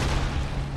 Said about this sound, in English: Oh, look. The explosion.